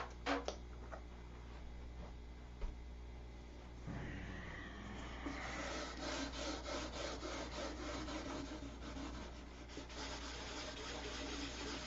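Sandpaper is worked by hand across a surface in rough rubbing strokes, quiet at first and then a steadier, rhythmic scratching that grows denser in the second half, close by and alone.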